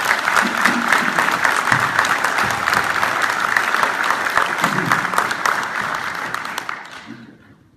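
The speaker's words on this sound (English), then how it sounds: "Another round of applause, please." A crowd at a US Army town hall at Fort Belvoir claps in loud, sustained applause for several seconds, the clapping thinning and fading out toward the end.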